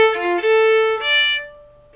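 A short solo violin phrase with quick slurred eighth notes leads into a sustained note that rings and dies away, close and clear with no talking.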